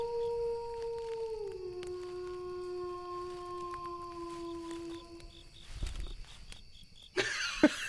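A hellhound, a supernatural dog, lets out a long sustained howl that slowly falls in pitch and trails away. A few scattered knocks and a brief rustling burst follow near the end.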